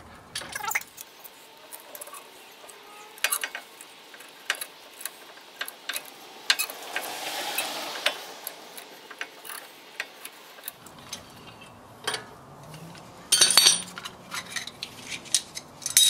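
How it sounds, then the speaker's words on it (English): A C-clamp being tightened to press the brake caliper pistons back on a 2007-13 GM truck front brake, heard as a string of sharp metallic clicks and ratcheting ticks, close and intermittent, with a brief scraping rush partway through. "using a simple C-clamp, we're going to compress"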